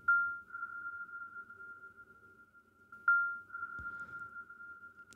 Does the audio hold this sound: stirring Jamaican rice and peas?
no